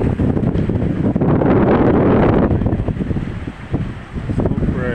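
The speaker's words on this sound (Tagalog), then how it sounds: "nalakas pa rin ang mga alon dito" Loud, rushing surf and wind buffeting the microphone at a Philippine fishport during a typhoon, with waves crashing continuously up close before easing slightly near the end.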